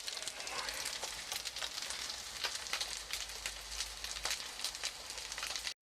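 Atomy ham sizzling in a thin pan over medium heat, a steady close frying crackle with scattered sharp pops throughout, no talking.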